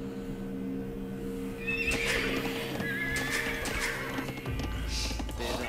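Horses from Age of Empires 2 DE neigh and whinny in a medieval campaign battle, several rising calls over steady clip-clop hooves and a low game ambience.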